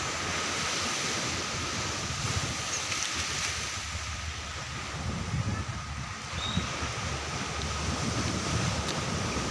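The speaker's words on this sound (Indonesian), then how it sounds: "hari ini saya lagi di Pantai Dewi Indah di Desa Pantai Labu" Steady ocean surf washes onto the shore at Pantai Dewi Indah beach in Desa Pantai Labu, a continuous broad roar mixed with wind buffeting the microphone, with no distinct individual wave crashes.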